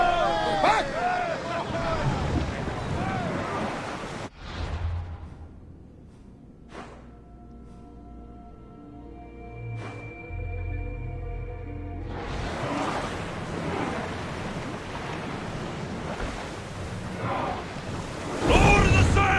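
A sailing ship at sea in Assassin's Creed Odyssey surges through water with wind and creaking, with voices calling out at the start, a quieter stretch of low rumble and tonal hum in the middle, then rushing water swelling again.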